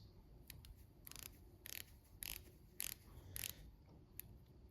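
A 40mm vintage diver watch's 60-click bezel turned by hand, giving crisp metallic ratcheting clicks in short bursts roughly every half second, close and quiet with no voices.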